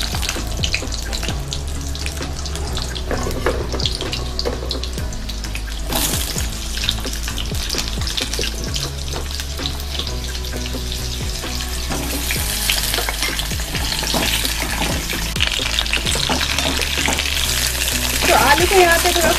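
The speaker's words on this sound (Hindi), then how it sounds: "आलू को यहाँ पे थोड़ा फ्राई कर लेंगे तेल में" Potatoes fry in hot mustard oil with asafoetida, a steady loud sizzle running throughout, with occasional clinks and stirring scrapes and a brighter surge of crackling toward the end.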